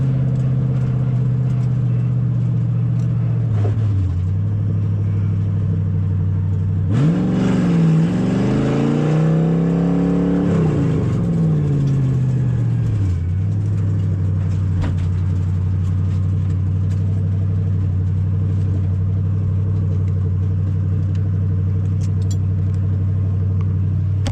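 A drift car at a drift-series competition revs hard, the engine note climbing and falling through a long slide, a steady loud roar that surges mid-run before settling to a sustained drone.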